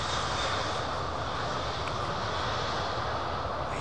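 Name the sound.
jet engines reverse thrust on landing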